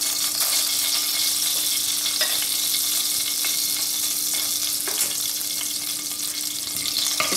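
Mustard seeds crackle and sizzle in hot oil while dhokla is being made, a dense steady frying hiss dotted with sharp little pops and clicks throughout, close and continuous, with no talking.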